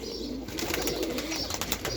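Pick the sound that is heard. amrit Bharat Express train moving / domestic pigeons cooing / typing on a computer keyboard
domestic pigeons cooing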